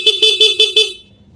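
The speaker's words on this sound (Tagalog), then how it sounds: "Stock horn." Five short, evenly spaced beeps from a Suzuki Raider Fi motorcycle's stock horn in quick succession, clear and fairly loud, then quiet.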